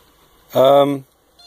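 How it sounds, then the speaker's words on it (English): A single drawn-out cat meow, loud and close, lasting about half a second against a quiet kitchen. "the cats are crying"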